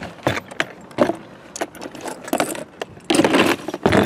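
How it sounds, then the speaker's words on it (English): An old metal chain dipped in white paint rattles and clanks against a plastic trash can lid, giving irregular close metallic jangles and knocks with a denser burst of rattling near the end. "That's just an old piece of chain."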